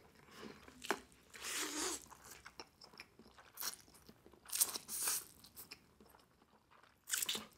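Big bites of Indomie Goreng fried noodles being chewed up close, with several crisp crunchy bursts and wet chewing sounds in uneven clusters, quiet in between.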